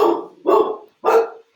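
Dogs giving three sharp, loud barks close by, evenly spaced with short silences between them and no other sound.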